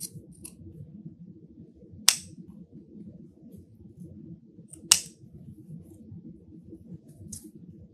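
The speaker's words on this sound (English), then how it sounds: "Now we're going to trim it." Scissors trim ribbon for a wreath bow: two sharp, crisp snips stand out clearly, with a few lighter clicks between them, all over a steady low room hum.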